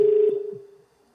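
A single telephone tone sounding steadily and then fading out over about a second, with a faint short blip partway through.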